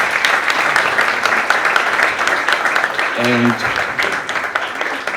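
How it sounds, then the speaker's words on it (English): An audience at an evening talk gives a warm round of applause, dense and sustained throughout, while a voice briefly speaks over the clapping. "let's give a very, very warm round of applause to Beat"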